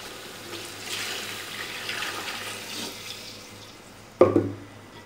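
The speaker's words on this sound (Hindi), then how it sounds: "अब ये वाले 4 गिलास हम पानी के इसमें शामिल कर देंगे।" Water is poured from a glass into a pot of soaked rice for pulao biryani, a splashing, gurgling stream throughout, moderately loud and close, ending in a sharper splash near the end.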